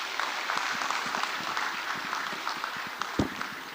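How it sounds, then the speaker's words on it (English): An audience at the Africa Social Impact Summit 2025 applauds the chairperson of the Nigerian Philanthropy Office, the clapping moderate and somewhat distant, with scattered individual claps standing out and a brief louder clap near the end. "Do keep the applause going for the chairperson of the Nigerian Philanthropy Office."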